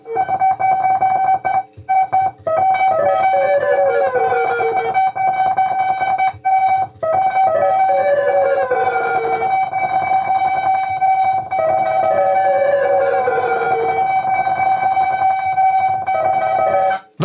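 Modified tape delay unit fitted with eight tape heads, producing dense cascading echoes of a tone that repeat and smear into one another, with pitch sweeps and brief dropouts, loud and continuous.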